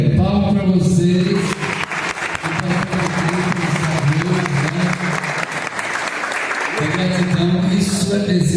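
Sustained applause from a community audience at a conversation circle gathering, dense and steady clapping rising strongly at the start and carrying on for several seconds, with voices mixed underneath.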